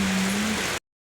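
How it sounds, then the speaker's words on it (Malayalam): Monsoon rain falls in a steady, dense hiss close by, with a low hum running under it for the first half-second before the sound cuts off. "അങ്ങനെ മഴയാണ്."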